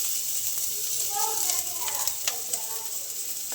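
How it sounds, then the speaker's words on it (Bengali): Onions and bay leaves fry in hot oil in a pan for a home-style country chicken curry, a steady close sizzle with occasional stirring scrapes and soft crackles throughout, no voice heard. "এখন একটু ভেজে নিব।"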